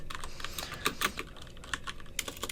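Computer keyboard typing at close range, a steady run of quick key clicks with brief pauses while a log entry is being written, no voices.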